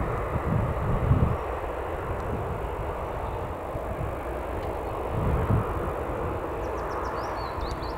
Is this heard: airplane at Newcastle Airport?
yes